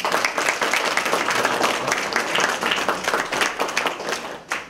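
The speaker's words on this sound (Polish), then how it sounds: "To brawa dla Państwa." An audience at an ecology contest summary ceremony in Ostrowiec applauds, a dense, even patter of many hands clapping steadily for several seconds before tapering slightly at the end.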